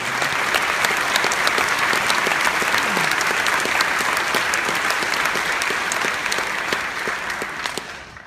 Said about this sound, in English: join me in giving a round of applause to our board of trustees and faculty